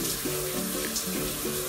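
Shower water runs steadily in a bathroom at close range, a continuous hiss with a pet parrot in the shower nearby and faint tonal chirps over it. No one speaks.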